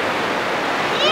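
Water from an ice bucket pours over someone's head, a steady loud rushing splash running throughout the short moment.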